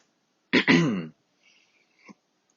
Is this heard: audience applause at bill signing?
no